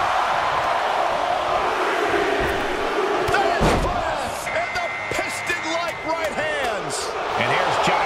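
A packed arena crowd in WWE 2K24 chants during a Royal Rumble match, counting down the next entrant in a dense, loud roar with rhythmic shouts and a heavy thud midway.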